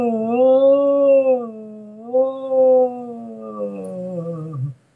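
A human voice imitates a haunting, wailing howl heard in woods, drawn out in long sliding phrases that rise and fall over about five seconds before trailing off.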